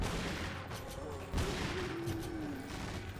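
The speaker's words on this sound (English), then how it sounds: "What are those shotgun blasts?" Shotgun blasts in the video game Resident Evil 4, a few muffled thuds and bursts set against a busy game soundscape with a rising tone, fairly faint overall.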